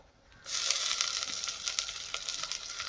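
Curry leaves hit hot oil for a prawn curry, bursting into a loud, close sizzle with crackling pops that settles into steady frying; no voices are heard.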